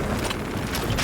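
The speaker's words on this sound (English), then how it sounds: "Deploying frag grenade." Frag grenade blast in the Warhammer 40,000 Space Marine 2 video game: a loud, dense burst of broadband noise that holds for about a second, with rumbling low end and crackling highs.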